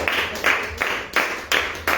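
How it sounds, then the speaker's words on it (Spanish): Church congregation applauding for the Lord during a service, a steady wash of clapping that swells in rhythmic pulses, moderately loud and sustained throughout. "Denle un aplauso al Señor"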